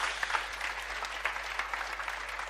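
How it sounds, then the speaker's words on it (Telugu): Classroom of students breaking into steady applause, many hands clapping together in a dense, even patter at moderate distance. "అందరూ కొట్టండి, చప్పట్లు కొట్టండి."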